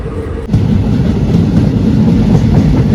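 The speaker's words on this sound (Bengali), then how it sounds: "আর ট্রেন আমাদের চলেছে" Just after leaving Adra Junction in the early morning rain, a train rolls on with a loud, steady rumbling roar and dense rhythmic clatter from close inside.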